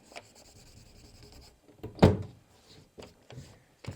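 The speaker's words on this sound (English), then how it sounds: "Just open that door again." A furniture door opens during a decoupage project using paper and plastic bags: one sharp, close wooden clunk stands out midway, followed by a few softer clicks and rubbing sounds in a quiet room.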